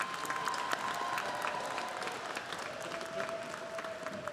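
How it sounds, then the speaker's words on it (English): Audience applause for bachelor's degree graduates at a Lamar University College of Engineering commencement in December 2015: a steady, even wash of many hands clapping, heard from a distance and held at one level throughout. "Would those receiving bachelor's degrees please stand and receive our applause?"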